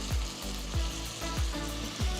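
Ten cloves of crushed garlic fry with chopped onions in a pan, giving a continuous moderate sizzle broken by a few soft, regular low thumps from stirring.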